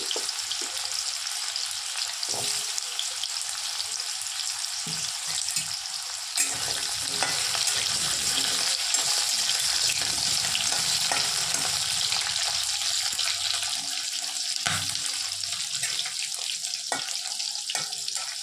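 Yam and ordinary winter potatoes frying in a pan with panch phoron spices and green chillies, a constant close sizzle broken now and then by the clink and scrape of stirring, with no talking.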